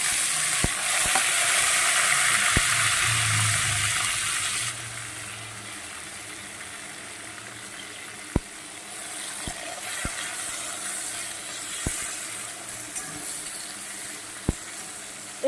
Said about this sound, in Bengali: সামান্য একটু ভাজার পরে দিয়ে দেব কেটে রাখা পেঁয়াজ আর টমেটোটা